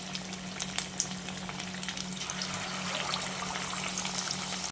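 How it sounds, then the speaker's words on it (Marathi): Chicken lollipops frying in hot oil over medium heat, giving a steady, close sizzle with soft crackle and trickling bubbling throughout, a low hum running beneath. "तर तेल गरम करत ठेवलेलं आहे यामध्ये आपण हे घालून घेऊया"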